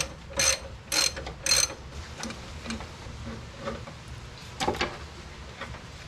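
A ratchet loosens bolts during an engine swap on a Jeep TJ, with three sharp, close clicking bursts at the start, followed by quieter scattered ticks and rattles of metal tools.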